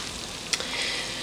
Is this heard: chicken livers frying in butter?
yes